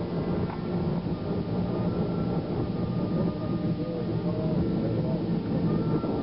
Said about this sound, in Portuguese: O comandante, porém, reduz as turbinas, passando da potência de decolagem para a potência de subida